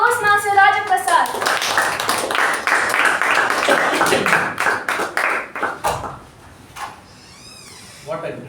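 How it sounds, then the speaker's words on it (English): A Toastmasters meeting audience claps in a burst of applause that fades out after several seconds, with a voice speaking at the start and some quieter talk and room noise after the clapping stops. "So with a huge round of applause, please join me in welcoming the Master of Ceremonies, Toastmaster Raja Prasad."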